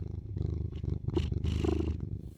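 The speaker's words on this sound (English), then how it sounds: "Oh, the purring is so cute." A cat purrs steadily and close up, a continuous rumbling purr for a couple of seconds with no talking over it.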